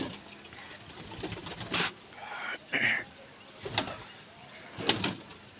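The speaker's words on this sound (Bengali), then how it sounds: "এই কয়টা কবুতর এখানে আছে।" Pigeons cooing and fluttering inside a loft, with a few sharp knocks and rustles standing out from a quiet background.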